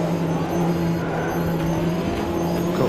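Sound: P1 race car braking in Automobilista 2 video game

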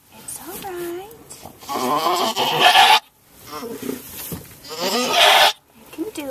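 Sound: goat bleating while giving birth

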